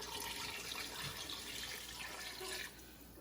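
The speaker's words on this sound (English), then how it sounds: "add significantly more water" Water pours steadily into a pot of homemade chicken soup, a continuous splashing rush that drops to a quieter trickle near the end.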